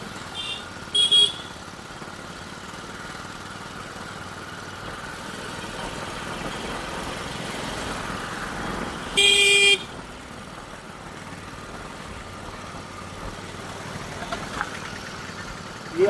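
Vehicles pass on a narrow road, a steady hum of engines with a couple of short horn toots from passing motorbikes and cars, one near the start and one midway.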